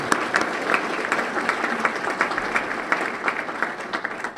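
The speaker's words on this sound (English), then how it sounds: "We owe them a big round of applause" Steady applause from an audience at an annual meeting, many hands clapping densely and continuously throughout, fairly loud with a few sharper claps standing out.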